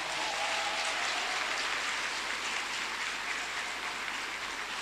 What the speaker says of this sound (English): Let's clap hands for them as they're rising up.